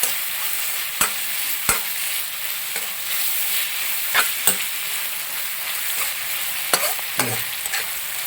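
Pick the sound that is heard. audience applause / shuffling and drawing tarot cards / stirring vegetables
stirring vegetables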